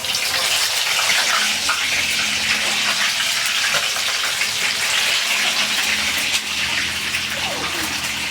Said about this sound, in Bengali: এখন মুরগিটা দিয়ে ভাজবো